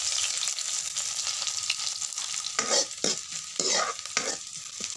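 Chopped onions frying in hot mustard oil, a steady bright sizzle that turns into louder bursts of stirring and scraping in the pan toward the end, with no talk.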